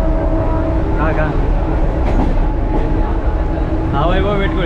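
A train pulling into a station near Neral, with a steady loud rumble of rail traffic and rising squealing brake tones at the start and again near the end, while people talk over it.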